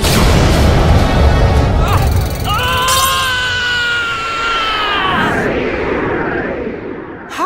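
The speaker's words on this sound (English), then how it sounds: "Neo Galaxy Eyes Photon Dragon! Attack! Ultimate Photon Stream of Destruction!" Attack effect of Neo Galaxy Eyes Photon Dragon in the Yu-Gi-Oh Duel Links video game, a loud roaring blast with rising and falling electronic tones, then a sweeping whoosh that fades out.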